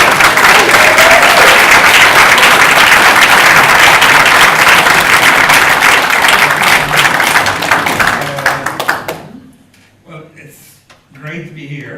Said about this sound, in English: So please give a big round of applause to Jim Sheridan.